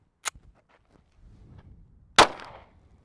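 A gunshot at an outdoor shooting range: a sharp, loud crack stands alone after a faint earlier snap and some quiet rustling, with a short decaying tail.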